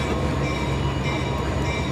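A train passes close by, a loud continuous rumble and roar of rolling wagons that stays steady and fills the whole moment.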